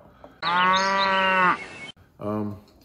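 Cow mooing sound effect: one long, loud bellowing moo followed after a short pause by a shorter second moo, close up and clear.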